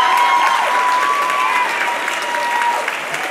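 An audience claps in continuous, fairly loud applause, a dense wash of hand claps that holds steady for the whole few seconds with slight easing toward the end.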